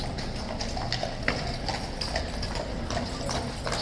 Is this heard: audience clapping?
no